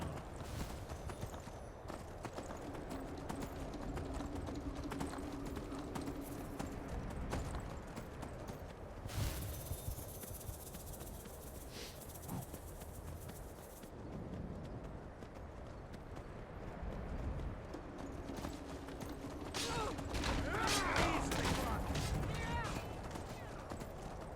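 Rhythmic horse hooves clip-clopping in the game Barbarian, a steady galloping beat running throughout, mixed with game sounds and occasional talk over it.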